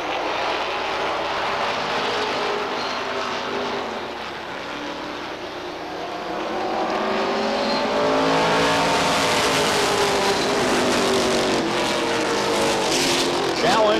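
Stock cars race at Beech Ridge Motor Speedway, their engines roaring loudly as they pass side by side, the roar swelling and sustaining in the second half. A race announcer talks over the noise.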